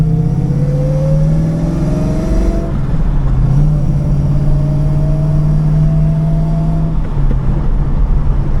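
A Holden Torana's engine revs under load with a worn, slipping clutch, a steady droning roar whose pitch climbs, drops sharply, then climbs slowly again, close and loud throughout.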